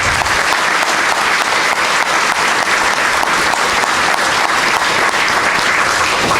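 Sustained applause fills a school board of education meeting room, steady and dense from a seated crowd, continuing evenly without speech.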